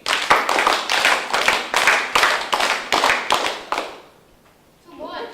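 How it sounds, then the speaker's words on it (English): A school class claps a rhythmic beat together, about nine sharp, evenly spaced group claps in a steady pulse, then a pause and a voice. "How many beats did we just clap?"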